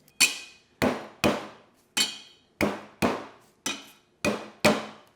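Garlic finely chopped with a knife on a cutting board: nine crisp, close, evenly spaced chopping strikes with no other sound between them.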